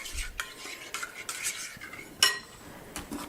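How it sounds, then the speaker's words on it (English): Almond milk mixed into a gluten-free bread batter in a bowl: a quick run of close scraping and tapping utensil strokes, with one sharper clink partway through and no voices. "I'm going to add 115 grams more of the almond milk. I'll mix that up."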